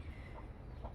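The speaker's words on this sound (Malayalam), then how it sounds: "ഇത് നമ്മുടെ കോഴി പൂവൻ കോഴി" A rooster on a family farm kept with goats and hens gives a couple of soft, short clucks over a low rumbling background, close by and fairly quiet.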